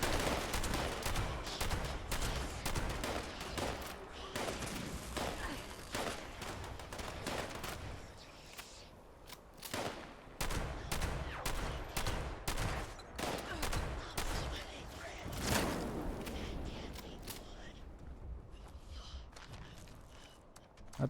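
Dense volleys of 5.56 rifle gunfire crackle through a co-op video game session, with rapid overlapping shots and bursts continuing almost without pause, loud and close throughout.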